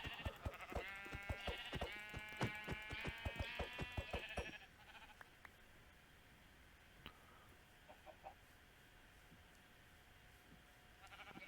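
Sheep in Minecraft bleat in a quick run of loud, close calls during the first four seconds, then the scene falls quiet, with only a few faint blips from other game creatures.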